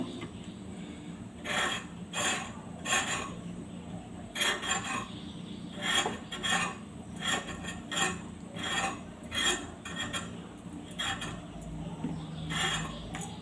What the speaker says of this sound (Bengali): চিচিঙ্গে কাটছি